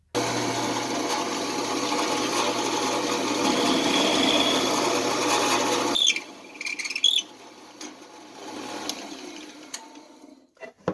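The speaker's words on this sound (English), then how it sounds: "Now we're at the Packard 12-speed precision drill press. I've got it set for 1000 RPM" A Packard 12-speed precision drill press set to 1000 RPM drills out broken-off screws with a steady, close motor whine and grinding for about six seconds. It then cuts off, leaving scattered clicks, scrapes and light handling noises.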